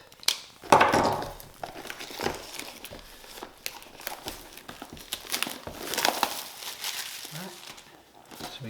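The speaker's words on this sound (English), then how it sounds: "So we get that urethane wrap off of it." Plastic urethane wrap on Vance & Hines Fuelpak 3 packaging being cut open and pulled off with a knife: close crinkling, rustling and tearing in irregular bursts, with no talk.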